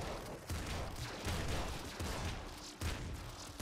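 Repeated gunfire in the Nuclear Throne top-down shooter game, several punchy shots in an uneven rhythm over a dense, busy layer of game noise, fairly quiet overall.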